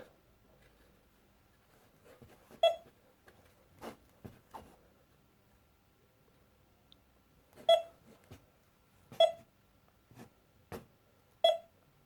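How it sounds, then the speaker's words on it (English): A Visua VSEZMD metal detector gives several short, sharp beeps spaced irregularly, mixed with quieter clicks and taps in an otherwise quiet outdoor setting. "As for if it's a decent target, it'll beep beep beep."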